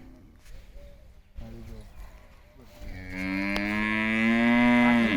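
A cow moos loudly and close, one long drawn-out call rising after some quieter background sounds.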